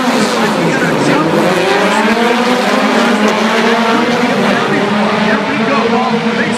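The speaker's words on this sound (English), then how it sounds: "We go to our first turn here in the debut of Ford Rallycross lights." Ford Rallycross Lights race cars roar into the first turn at X Games Los Angeles, a dense, loud wall of revving engines with rising and falling pitch sweeps as several cars pass, continuous throughout with crowd noise and commentary underneath.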